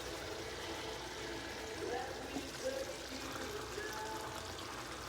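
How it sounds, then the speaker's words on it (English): Tomato puree is poured into a Carolina Reaper chilli curry in a home kitchen, a soft continuous liquid pour with light sizzling throughout. "Let's have some tomato puree in"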